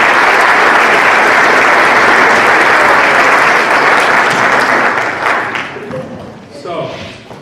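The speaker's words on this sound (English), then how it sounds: "we all owe our parents a round of applause" A banquet crowd at a Mustang Hall of Fame dinner gives the parents a loud, dense round of applause that holds steady, then fades over the last couple of seconds as a few scattered claps and voices remain.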